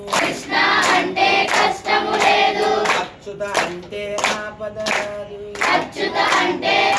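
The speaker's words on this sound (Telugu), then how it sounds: "చప్పట్లు కొడుతూ" Hands clapping in time along with a Telugu devotional chant, steady rhythmic claps under a singing voice that continues throughout.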